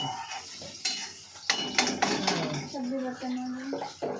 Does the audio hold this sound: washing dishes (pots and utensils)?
yes